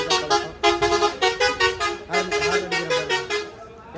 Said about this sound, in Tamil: எனக்கு தான் ஹாரன் அடிக்கிறான் வாடான்ட்டு.